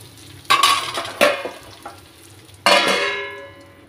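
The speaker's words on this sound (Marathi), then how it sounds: "मसाला टाकून थोडा असं मिक्स करून घेऊ" A spoon stirs masala into an eggplant curry in a pan, giving three sharp scraping strokes with sizzling in between, close and clear with no talk.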